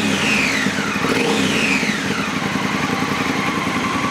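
Triumph 1200 twin-cylinder motorcycle engine runs steadily close by, its revs rising and falling briefly, with no talk over it.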